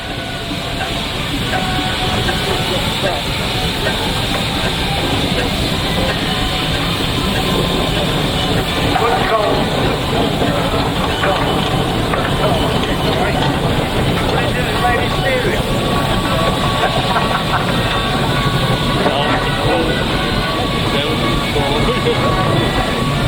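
A steam traction engine at the Masham steam rally runs with a loud, continuous rumble and hiss that holds steady throughout, with no clear break or pause.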